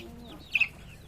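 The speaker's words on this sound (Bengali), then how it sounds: "দেখো কতগুলো হাঁস মুরগি দেখতে পাচ্ছ" A chicken gives one short cluck midway through, over a quiet farmyard background.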